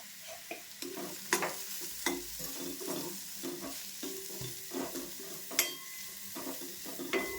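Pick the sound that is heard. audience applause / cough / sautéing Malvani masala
sautéing Malvani masala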